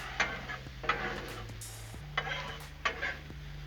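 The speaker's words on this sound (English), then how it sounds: "Give it one good stir real quick" Shrimp sizzle on a Blackstone flat-top griddle while a spatula stirs them, producing four distinct scraping strokes over a steady low sizzle, close and fairly quiet.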